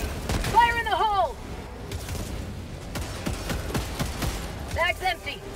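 Grenade blast and surrounding combat in Helldivers 2, with booms and scattered gunfire under shouted voices and tonal game sounds, loud and busy throughout.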